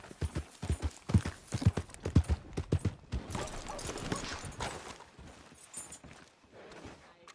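Rhythmic clip-clop of horse hooves at a steady walking pace in the video game Red Dead Redemption 2, fairly close, with a faint snort partway through and no talking.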